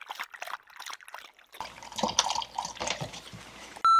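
A dog drinking water loudly, with wet, irregular lapping and dripping sounds close to the microphone that grow denser and more continuous partway through.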